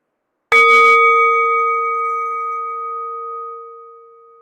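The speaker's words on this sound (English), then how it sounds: "So I'm going to ring the bells again so we can just soak in all that lovely thinking, inspiration, and heart talk we just had." A single bright bell or chime is struck once, ringing out clear and close with sustained tones that slowly decay over several seconds in quiet surroundings.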